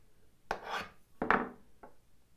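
A burnisher drags across the edge of a card scraper to raise a burr, giving three short scraping strokes, the first two longer and stronger and the last brief and faint, close up with no talking.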